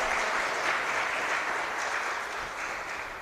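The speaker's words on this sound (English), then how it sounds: "give him a round of applause" An audience at a tourism youth expo and career fair claps for a participant who answered a question, steady, even applause sustained throughout and easing slightly at the end.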